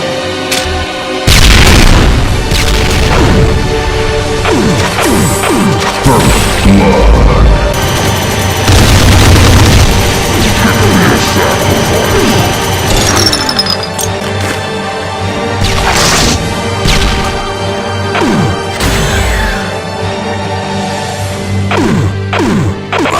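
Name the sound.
plasma cannon shots exploding in Doom mod video game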